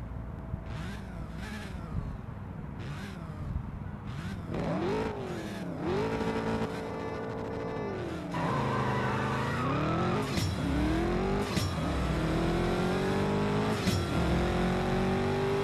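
A Lamborghini Urus in the racing game CSR 2 revs its engine hard through repeated gear changes, with tire squeal, a steady loud engine drone throughout and no talk.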